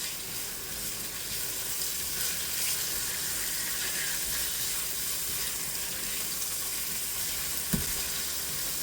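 Food sizzles steadily in olive oil in a pan, a dense, even frying hiss up close with a single small clink near the end.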